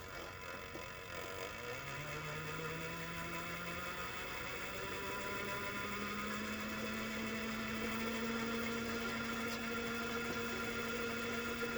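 A 1962 Sprunger wood lathe motor running at higher speed, a steady close hum with a tone that rises as it spins up, continuous and alone.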